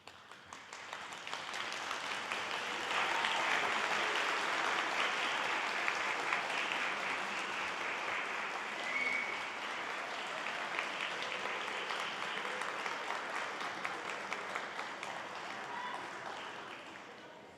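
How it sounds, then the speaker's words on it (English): A graduating class of 2025 standing to applaud at a commencement ceremony, sustained hall-filling applause that swells in over the first seconds, holds steady for a long stretch, then tapers slightly at the end. "I invite you to stand to express your appreciation to your loved ones with a round of applause."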